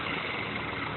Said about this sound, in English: if we turn this pulley, spin it, you can actually hear a rough noise coming from the bearings